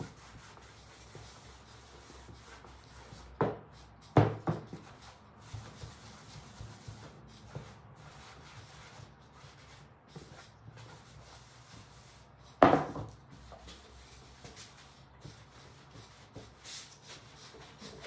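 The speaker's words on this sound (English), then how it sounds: "Continue to just buff the whole outside of the tray." A cloth rubs wax by hand across the outside of a tray in quiet, intermittent passes, with a few louder scuffing strokes and soft handling knocks.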